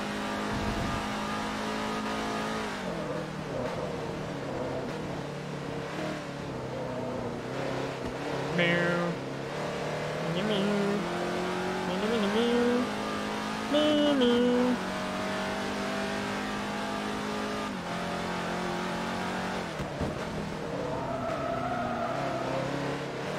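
A race car engine in Forza Motorsport 3 drones steadily and loud throughout, its pitch rising and falling with gear changes and revs, with brief squeals and game effects layered over it, no talk.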